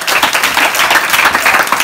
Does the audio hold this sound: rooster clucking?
no